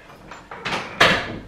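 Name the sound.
door being closed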